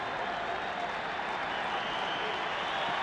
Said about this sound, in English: The crowd roaring with every pitch.